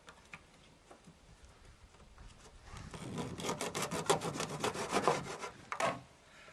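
Cutting the top off a caulk tube, a quiet start building into a rapid series of short, scratchy sawing strokes close by, ending with a final sharp snip.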